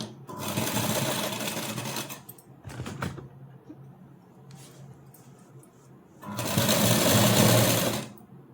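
Sewing machine stitching the neckline of a three-layer frock with a leaf neck design: two loud bursts of fast, whirring stitching separated by a pause with brief clicks and handling noise.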